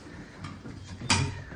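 A Dover elevator door at a Macy's store slides along its track with a low mechanical rumble, ending in a brief louder clunk as the panel reaches its stop.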